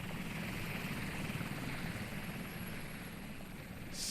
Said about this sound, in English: I'm going to bring that helicopter in just so it's not as annoying